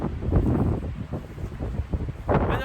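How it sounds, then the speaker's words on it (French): Strong wind buffets the microphone at a mountain summit in loud, uneven gusts with low rumbling bursts, rising again near the end. "Il y a du vent abusé"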